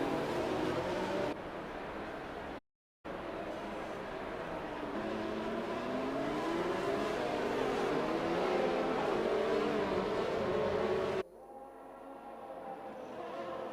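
Steady engine roar of GP3 race cars circling behind the safety car at the Mexican Grand Prix, a continuous rumbling drone that briefly cuts out, then drops to a quieter hum near the end.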